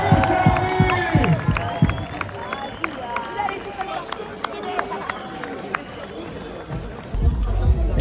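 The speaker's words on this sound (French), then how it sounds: "Notre podium, on fait un purée d'applaudissements." Crowd applauding and cheering at the FISE Montpellier podium ceremony, with scattered sharp claps and whoops rising over a busy, echoing crowd murmur while voices talk over the noise.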